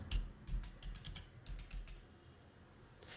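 Quick bursts of clicky keystrokes on a computer keyboard, fairly close and distinct, clustered in short runs with brief pauses and no talking.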